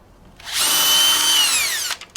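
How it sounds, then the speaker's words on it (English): Cordless drill driver fitted with an Allen key spins out a screw from a Yamaha scooter engine casing, one sustained high whine rising to full speed and winding down, close and loud. "I've fitted an Allen key to this drill driver, and I'll just work round each of the screws now, taking them right out."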